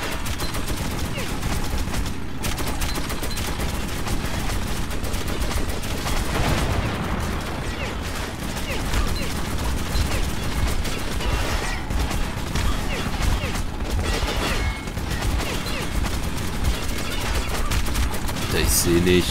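Cannon and gunfire in Metro 2033 Redux as a mounted gun fires repeatedly, making continuous dense bursts, crashes and mechanical clatter, with someone talking over it in German.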